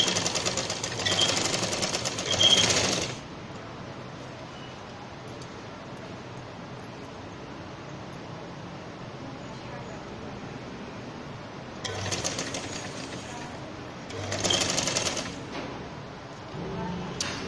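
A sewing machine stitches piping onto a baby's winter dress in two close, rapid buzzing bursts, one at the start and another near the end, with a quieter stretch between them.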